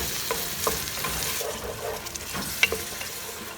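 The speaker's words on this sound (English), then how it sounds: "Now just deglaze it a little bit." A pan of tomatoes and onions sizzles steadily while being deglazed and stirred, a constant close frying hiss with scattered scraping and stirring knocks, no voices.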